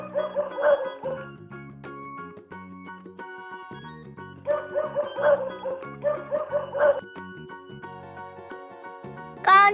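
A dog barks in two clusters of repeated bow-wow sounds, set over a steady, tuneful children's music backing.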